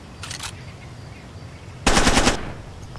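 Uzi submachine gun firing in the shooter game Far Cry 2: a brief short burst, then a louder, sustained rapid-fire burst of about half a second, with no talk over it.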